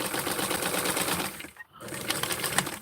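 A sewing machine stitching a small doll dress runs in a fast, continuous rattling whir, close and loud, pausing briefly near the middle before starting up again, with no voices.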